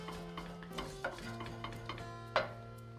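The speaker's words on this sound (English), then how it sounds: "So let's give this a really nice stir." Urad dal frying with mustard seeds is stirred in a pan, giving soft rhythmic scraping ticks and a light sizzle over a steady hum, with one sharper knock near the end.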